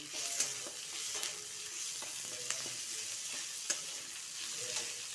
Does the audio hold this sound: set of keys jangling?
no